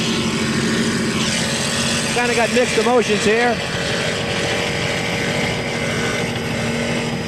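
Racing powerboat engines roar steadily at full throttle throughout, with someone talking briefly over the loud engine drone.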